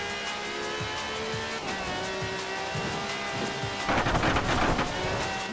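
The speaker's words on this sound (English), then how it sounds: "No clattery diesel engine here. This is a V12 with over 750 horsepower" A V12 car engine with over 750 horsepower in the racing video game Forza Horizon 4 revs up and climbs through the gears, then a burst of rougher noise like tyres or a hard shift erupts near the end. No voices are heard.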